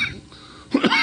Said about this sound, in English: hang on, I got a cough.